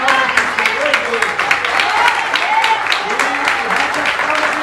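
A church congregation claps together in praise during a sermon, a dense, loud, continuous burst of applause with excited voices calling out over the clapping.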